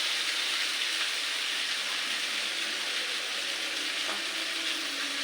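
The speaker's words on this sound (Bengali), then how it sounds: "চিংড়িগুলো ভালো করে ভাজি করতে হবে" Shrimp frying in a pan for a taro-leaf and shrimp dish, giving a steady, dense sizzle that holds evenly loud from start to finish with no voices.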